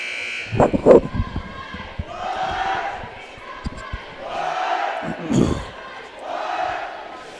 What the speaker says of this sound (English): got the cow call cheer going